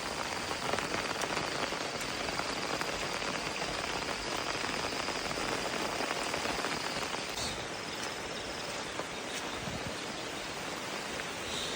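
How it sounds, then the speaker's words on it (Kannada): Steady rain falls and patters on surfaces outdoors in the pre-dawn dark on a rural path near an old tree. It forms a continuous, fairly loud hiss that holds evenly throughout, with scattered individual drops. "ಮಳೆ ಕೂಡ ಸ್ಟಾರ್ಟ್ ಆಯಿತು."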